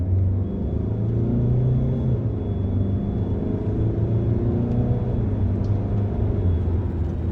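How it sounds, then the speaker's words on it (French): A Peugeot Rifter accelerating along a straight road gives a continuous, loud, low engine and road rumble, with the drone shifting slightly in pitch as it pulls. No one speaks. "Je vais pouvoir tester l'accélération et derrière le freinage."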